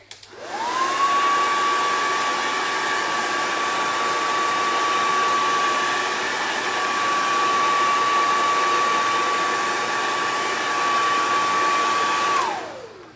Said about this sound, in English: I'm going to blow dry it just for a few seconds to make it dry quicker.